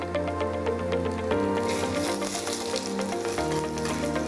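Ginger frying in hot oil gives a continuous close crackling sizzle with scattered sharp pops and occasional stirring scrapes, steady throughout.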